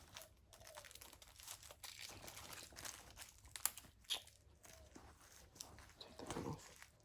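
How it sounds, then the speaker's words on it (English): Thin plastic wrap is peeled from the hands of a 1/6 scale Valak Nun figure, giving faint, close crinkling and a couple of sharp crackles in an otherwise quiet room. "Oh, still have plastic on the left hands."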